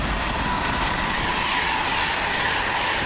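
A Virgin train from London Euston to Manchester Piccadilly via Stoke-on-Trent passes through Cheddington station with a loud, continuous roaring rush and rail rumble that holds steady throughout.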